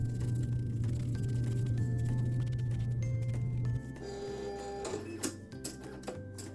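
A vinyl cutting machine slices brown craft vinyl with a steady mechanical whir and stepping motor tones, shifting pitch as the carriage moves back and forth at close range.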